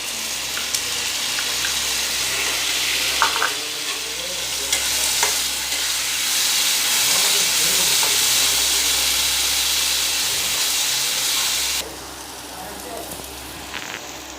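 Tomato paste hits browned onion paste in a hot pan for a fish curry, raising a loud, steady sizzle with stirring scrapes that lasts throughout and drops noticeably near the end.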